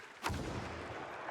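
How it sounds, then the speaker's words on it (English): A single booming gunshot effect from the Super Mega Baseball 4 video game, a sharp crack with a long rumbling tail over steady background noise. "I had the gunshot sound."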